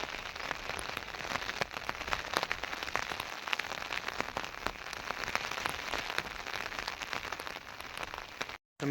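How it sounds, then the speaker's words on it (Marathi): Heavy rain pours steadily in the open countryside near goat pens, a dense continuous patter of drops drumming on surfaces, close and fairly loud, with no voices over it. "पाऊस वाढलेला आहे आता परत."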